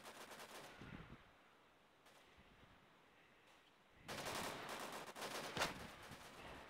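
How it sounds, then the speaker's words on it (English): Gunfire in the shooting video game Standoff: a quiet, continuous rattle of automatic fire at the start, a lull, then a louder stretch of rapid shots with no talking. "Trying to shoot these people right here to go crazy shooting."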